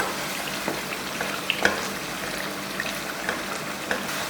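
Peshawari charsi chicken karahi with tomatoes bubbles and fries in a wok, a dense continuous sizzle with occasional small pops and utensil taps, close and steady, no voices.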